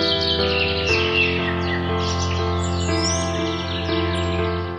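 A little bird's chirps serve as a sound effect in a children's story, with short bright tweets scattered over soft sustained background music.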